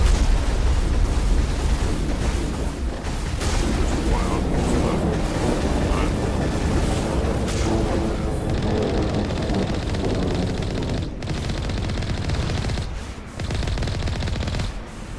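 A dropship blown apart in Mass Effect, a heavy explosive roar with rumbling blasts and gunfire layered over a loud battle din, then a brief sharp crack near the end.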